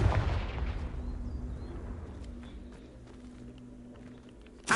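A fire-blast Confringo spell cast in Hogwarts Legacy: a sharp, booming burst that decays into a low rumble, with a second sudden blast at the very end.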